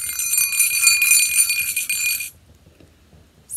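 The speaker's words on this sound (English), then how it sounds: "its jingling bells made the most beautiful sound she had ever heard." Bells jingling on a reindeer harness in a Christmas story, a loud bright shimmering ring that sustains for about two seconds and then cuts off sharply to near silence.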